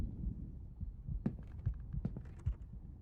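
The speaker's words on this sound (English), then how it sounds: "Hear the heartbeat." Heartbeat from a horror video game: a steady run of soft, deep double thumps that repeats over a low hum, fairly close and unaccompanied by speech.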